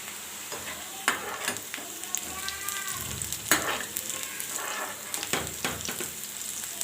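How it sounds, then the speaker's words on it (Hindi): Onions frying in oil in a small pan on a home stove: a steady, close, hissing sizzle with crackles and occasional stirring scrapes and clinks throughout, no voices. "प्याज को पकने देंगे।"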